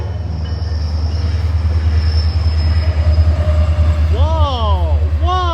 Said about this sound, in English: I think this is the Tri-Rail, the northbound Tri-Rail.